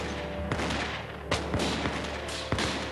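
Musket fire in a battle as British troops retreat toward Boston under attack: several sharp, separate shots crack at irregular intervals over a steady rumbling background.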